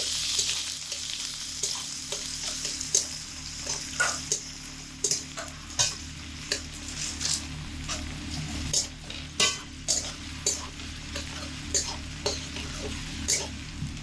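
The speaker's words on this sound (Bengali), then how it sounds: "আলুগুলো আলাদা আমি তেলের মধ্যে ফেলে ভেজে নিচ্ছি" Small pieces of potato fry in oil on medium heat, a continuous soft sizzle punctuated by regular scraping stirs of a spoon against the pan.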